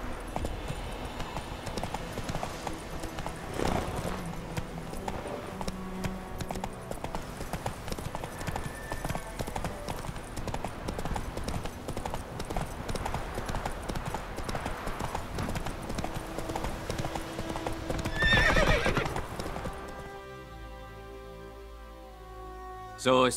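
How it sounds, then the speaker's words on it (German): Hooves of a galloping horse in The Witcher 3 pound in a fast, steady clip-clop rhythm throughout, close and prominent, then fade near the end as the ride stops. "Wenn die Ausdauer deines Pferdes erschöpft ist, kannst du nicht mehr galoppieren."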